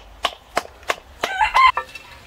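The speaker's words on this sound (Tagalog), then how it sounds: "Ang daming gayna dito guys. Manok." Several chickens cluck close by, a series of sharp, evenly spaced clucks followed by a brief rising squawk.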